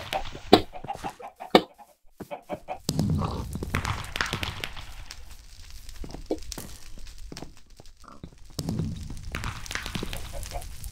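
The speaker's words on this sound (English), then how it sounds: "That chicken right there." Chicken in a block-building video game, clucking in short bursts alongside game sounds and footsteps, with no talking.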